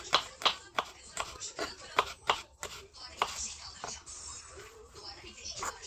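A knife chops fresh mint rhythmically on a cutting board, a quick series of sharp close taps, then the strokes soften and come more irregularly.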